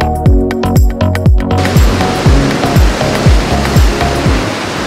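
Ocean waves rush and wash steadily against the rocks below coastal cliffs on the Sunshine Coast near Mooloolaba, a dense, loud surf roar with a faint rhythmic thumping underneath.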